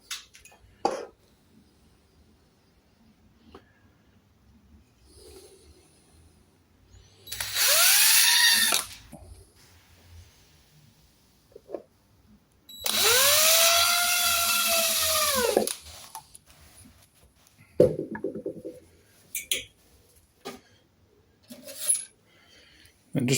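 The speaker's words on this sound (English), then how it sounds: "A couple of screw holes and we're done. So, a little 3mm drill bit." A small 3mm bit in a power drill makes screw holes during a guitar repair, with two distinct whining bursts rising and falling in pitch, the second longer, separated by quiet handling clicks and a few soft thuds.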